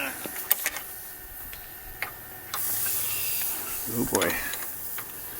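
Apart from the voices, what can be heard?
heated century-old nut and bolt sizzling like frying bacon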